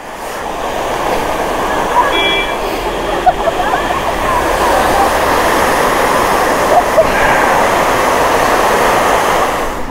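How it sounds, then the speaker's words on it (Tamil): Roadside waterfall on a misty mountain route, heard as a steady broadband rush of falling water that stays loud and constant throughout, with a few faint tonal beeps and no talking. "ரோட் சைட் ஃபால்ஸ் பாருங்க"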